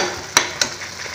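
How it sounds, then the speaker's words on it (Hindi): Coarsely ground masala frying in a pan for Uttar Pradesh-style green pea nimona, with a low steady sizzle broken by two sharp stirring scrapes close by. "हमारा मसाला भून रहा है अच्छे से"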